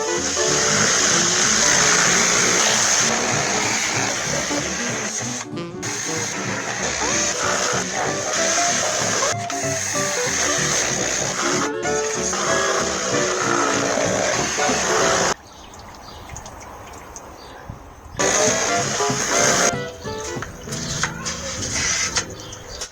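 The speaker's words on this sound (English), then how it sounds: "During cleanup, I remembered that I have a strong pressure washer." A strong pressure washer blasting loose paint off a large yacht hull gives a loud, steady hiss that runs for about fifteen seconds, drops out briefly, then resumes with choppy bursts near the end.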